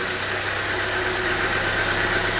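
A Renault Logan four-cylinder engine runs steadily at idle, close and loud, a continuous even drone with no talking.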